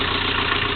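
A rebuilt Land Rover Series 2a engine runs steadily and loudly up close, a dense, even rumble with a low throb and no breaks.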